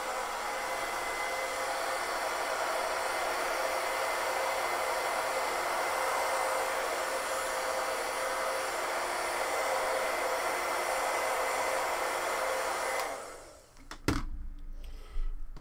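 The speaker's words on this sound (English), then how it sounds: "So hit it one more time with the hairdryer." A hair dryer blows hot air onto a foam weapon being customized, a steady, loud rushing roar that holds for about thirteen seconds, then cuts off, followed by a few soft handling knocks.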